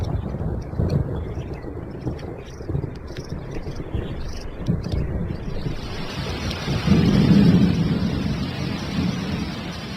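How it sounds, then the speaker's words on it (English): Heavy rumbling thunder rolls over steady pouring rain, with the rain hiss growing louder and a deep boom swelling near the end. "Thunderstorms may be brief here, but they often presage long rainy spells."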